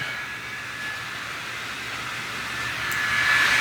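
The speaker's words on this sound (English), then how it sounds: "So I will probably be wearing this fan in that video too" Steady broadband whirring hum of a small wearable fan, running continuously and close, growing slightly louder toward the end with no talking.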